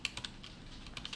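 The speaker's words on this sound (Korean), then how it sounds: "컨트롤 L을 누르면" A computer keyboard pressed briefly, giving a quick run of about eight close, crisp key clicks in an irregular rhythm, with no voice.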